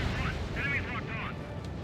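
Explosive booms and rumbling blasts of a missile strike in the combat flight game Ace Combat 7, loud and continuous with dense low-end rumble and crackling hits throughout.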